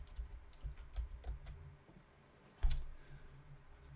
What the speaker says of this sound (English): let's see if I'll just type it up here